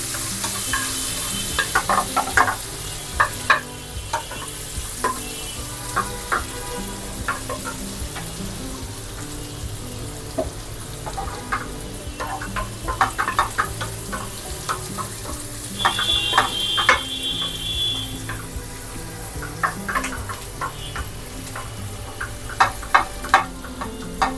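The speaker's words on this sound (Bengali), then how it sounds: "এখন একে একে সমস্ত উপকরণগুলো দিয়ে দেওয়া হচ্ছে: গার্লিক, পেঁয়াজ, হালকা ব্রাউন করে" Garlic and onion fry in a pan, browning lightly, with a constant close sizzle and a spatula stirring and scraping in frequent clicks and strokes throughout, with no voices.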